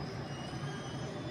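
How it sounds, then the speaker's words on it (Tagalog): A train passing at night in Vietnam, a faint steady rumble with a thin high squeal from the wheels over the whole moment, heard from a distance with no voices. "May dumadaan na tren dyan."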